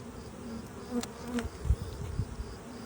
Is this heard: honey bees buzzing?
yes